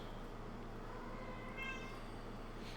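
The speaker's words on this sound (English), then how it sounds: "That's my Virgil? cat." A cat gives a short meow, faint and somewhat distant, over a steady low background hum with no speech.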